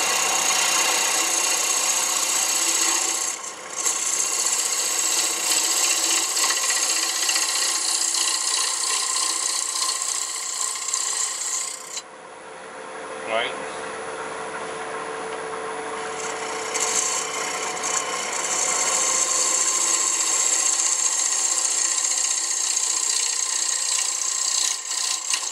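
An edge tool slices through wood with a long, steady shearing rasp, broken by a short pause, then continuing close and even.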